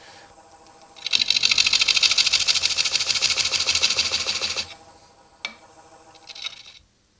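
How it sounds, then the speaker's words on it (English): A round nose scraper cutting a sycamore bowl on a wood lathe, a loud buzzing, rapidly chattering scrape lasting a few seconds, followed by a couple of brief knocks and a short final scrape. "I'm doing that very slowly with a round nose scraper"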